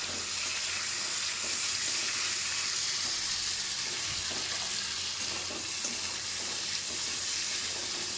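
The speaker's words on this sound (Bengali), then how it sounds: "এগুলো ভাজবো ভালো করে ভেজে নিয়ে আমি দেবো" Ingredients frying in a pan give a dense, even hissing sizzle across the whole stretch, close and fairly quiet, with no voices over it.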